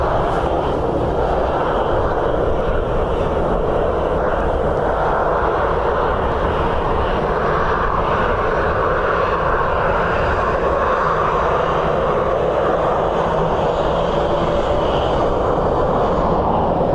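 An Airbus A321neo airliner lands in crosswinds during a storm at Dublin Airport, its engines giving a loud, continuous roar and rumble mixed with gusting wind that holds steady for the whole stretch.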